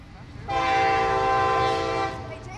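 A train horn sounds near the rebuilt Bay St. Louis railway bridge, one long, loud, steady chord-like blast lasting about a second and a half over a low rumble of rail traffic.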